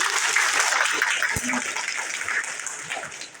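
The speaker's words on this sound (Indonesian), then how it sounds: "Tepuk tangan dulu saudara" Crowd clapping at a peaceful rally of culinary traders in Lampung Barat, a dense steady wash of applause with some voices mixed in.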